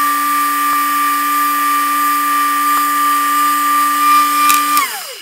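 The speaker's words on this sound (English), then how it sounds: "I'm going to use a little bit of this piano wire here to burn these in a little bit." Piano wire pressed against a spinning double-edge safety razor handle on a lathe, a steady high whine with a constant tone that holds for about five seconds before winding down.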